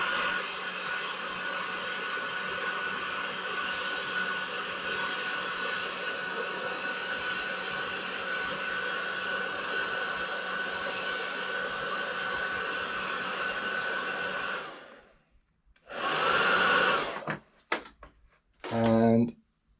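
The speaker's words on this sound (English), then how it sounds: "then you can use a normal heat gun" A heat gun blows steadily for about fifteen seconds while shrinking tubing on a battery for an electric boat motor, a loud, even hot-air roar that then cuts off, followed by brief bursts of talk.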